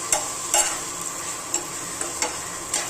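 Masala fries with a steady sizzle in a pan, with sharp, regular scrapes of a spoon stirring it close up.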